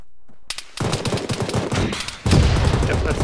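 Sustained enemy machine-gun fire rattles close and loud in Arma during a ShackTac squad operation, with rapid bursts that intensify into a heavier, denser barrage near the end.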